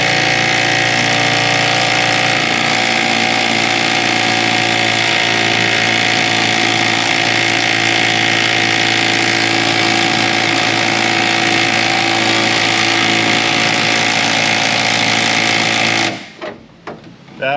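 Impact gun hammering in one long, loud, continuous burst on rusted nuts of Chevrolet Silverado leaf springs, a harsh rattling drone lasting about sixteen seconds before cutting off abruptly.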